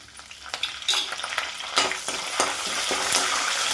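Urad dal, chana dal, mustard seeds, cumin, dried red chillies and curry leaves sizzle in hot oil for a tempering, a close, loud crackle with sharp spits and pops over a steady fry.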